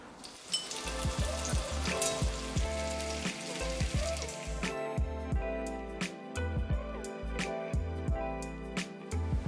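Plums cooking in butter in a pan sizzle and crackle steadily at close range, with a dense spattering hiss and many sharp pops scattered throughout, and no voices.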